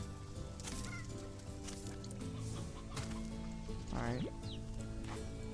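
Briar hen chickens in the Slime Rancher 2 video game cluck in short bursts over steady game music, with one louder squawk near the end; a person speaks briefly.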